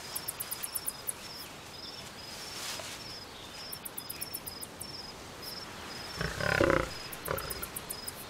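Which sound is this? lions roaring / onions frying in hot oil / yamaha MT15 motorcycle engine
lions roaring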